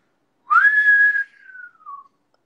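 A person whistles a single sustained note, rising quickly and then sliding gently downward as it fades, loud and close with nothing else around it.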